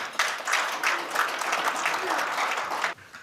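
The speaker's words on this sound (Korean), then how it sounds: "오늘 성화를 통해 본 교회의 가르침을 주제로 강의해 주실 장흥선 예로니모 신부님을 큰 박수로 모시겠습니다." Audience at a Catholic business leaders' breakfast seminar claps steadily for about three seconds to welcome a priest lecturer, a dense even patter that stops abruptly near the end.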